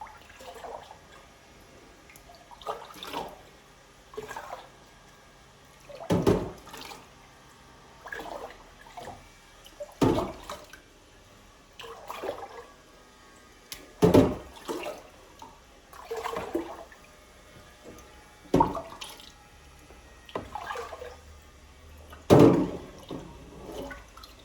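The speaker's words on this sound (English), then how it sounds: "so I'm just going to take that out and make it easier. And just dump the water in" Water is dumped into a new aquarium in repeated bursts, each loud gushing splash followed by quieter sloshing and dripping, close up and irregularly spaced.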